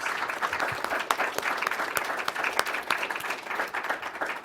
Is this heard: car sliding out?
no